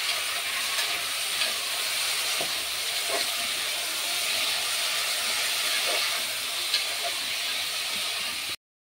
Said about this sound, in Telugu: వేసుకొని చికెన్ అనేది ఇలా తిప్పుతూ కొద్దిసేపు ఉడికించుకోవాలి